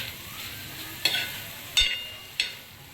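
Cooked dried prawn curry is stirred in a pan, with a soft steady sizzle and three sharp spoon scrapes or clinks against the pan at roughly even intervals, close and alone without talk.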